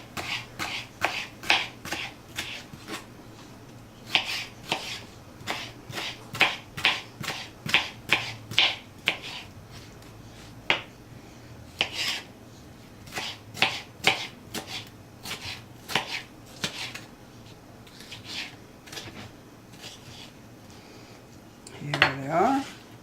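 A knife chops dough strips into little squares on a board for homemade fried noodles, giving a long run of quick, crisp, close taps that come in bursts with short pauses between.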